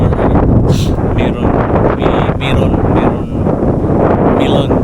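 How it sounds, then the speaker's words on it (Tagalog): Strong wind buffets the microphone in loud, uneven gusts, with voices talking faintly underneath. "Sarap ng hangin dito, Matulits."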